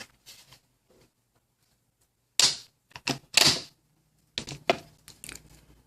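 A magnetic keyboard on a Microsoft tablet snaps on and off with several sharp clacks and clicks in quick bursts, close by and separated by short silences.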